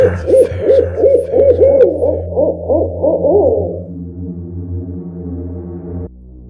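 An owl hoots repeatedly in a quick rhythmic series, loud and close, over a steady low droning background that continues after the hooting fades.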